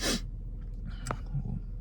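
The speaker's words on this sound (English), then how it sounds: "I'm about to sneeze" A single sharp sneeze bursts out at the start, followed by quiet breathing and a soft snort.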